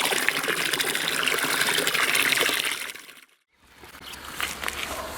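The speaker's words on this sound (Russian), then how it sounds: "делаем и помешивающие движения струи воды, заполняя каждое ведро" Water gushing from a garden hose into a bucket outdoors, a loud continuous rushing stream that breaks off briefly, then resumes as the hose moves to the next bucket.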